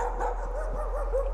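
A dog barking and whimpering in the horror video game Layers of Fear: short, wavering yelps under a steady low hum, with no one talking.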